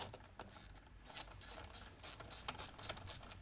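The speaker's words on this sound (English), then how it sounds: "Pop these little bolts back in again." A socket ratchet nips up small 10mm bolts on a Peugeot 107 heater blower motor, giving repeated bursts of quick, close metallic clicking with short pauses between turns.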